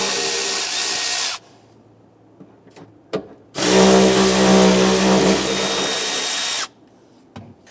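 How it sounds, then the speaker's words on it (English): A power driver spins an 8mm socket to back out filler neck bolts on a 1994-2004 Ford Mustang, two loud sustained whirring bursts close by, separated by quiet gaps with small clicks. "We're using our 8mm socket to remove these."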